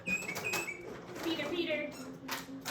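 A tufted titmouse call played back from a bird identification app: short repeated whistled notes in a quick series, heard in a room with some background noise.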